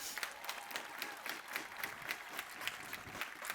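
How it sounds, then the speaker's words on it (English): Faint, distant applause at an outdoor college commencement ceremony, steady soft clapping from a spread-out crowd heard at low level throughout. "Please applaud for them."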